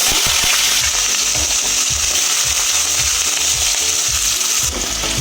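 Small cut potatoes fry in hot oil with dried chili and panch phoron, giving a loud, dense, continuous sizzle close by, with some low clatter from stirring.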